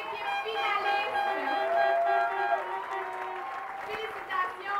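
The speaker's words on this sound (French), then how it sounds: "Une bonne main d'applaudissements pour nos deux équipes finalistes." Crowd applause for the two finalist teams at an under-17 football championship final, heard under a loud tonal voice over a public address, the clapping a steady wash behind.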